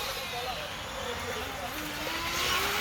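Small radio-controlled cars race on a track: a custom-built Kyosho GT2, a Hobao GTB and an Arrma Kraton. Their electric motors give thin, rising whines over a low, steady background, faint and fairly distant.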